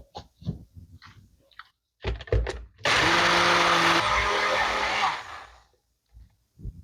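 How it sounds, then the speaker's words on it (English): Electric blender purees diced mushrooms with broth, roaring loud and close for about two seconds after a few clicks and handling knocks, then winding down to quiet. "I will blend them now with either vegetable broth or chicken broth"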